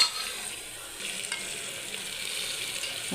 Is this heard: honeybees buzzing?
no